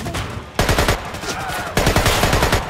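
Gunfire from the stealth action game Splinter Cell: Conviction, two loud bursts of rapid shots, the first short and the second after a brief pause, dense and close with game noise between them.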